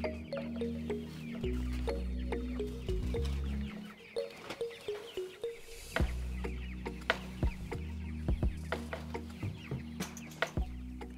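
Farm chickens cluck repeatedly as the flock is moved along in the open, a steady chorus of close, overlapping clucks and short calls with a low background hum.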